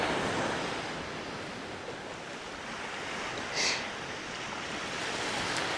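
Ocean surf rolling onto the beach at Brookings, Oregon, a continuous broad wash of breaking waves with wind buffeting the microphone, one brief brighter splash midway.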